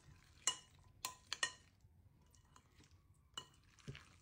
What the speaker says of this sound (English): we are gonna give this a good mix